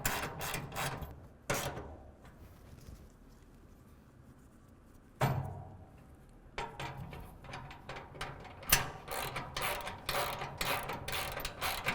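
A 13 mm ratcheting wrench tightens the mounting bolts of a truck rack on a 2024 Ford F-150, giving close, quiet bursts of rapid clicking with brief pauses between strokes and a couple of sharper knocks.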